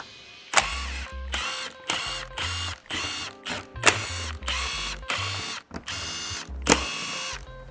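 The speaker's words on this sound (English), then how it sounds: "Using a T30, remove the 9 bolts that run along the bottom of the bumper." A T30 driver spins out the bolts along the bottom of an Audi RS5 B9 front bumper, giving a series of short, close, whirring mechanical bursts separated by brief pauses, with no voices.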